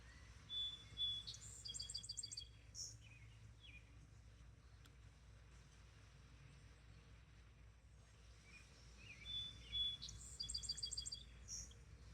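Birds chirp and sing outdoors in short bursts of bright, repeated tweets. Two clusters of calls arrive near the start and again near the end, faint over a low, quiet background with no talking.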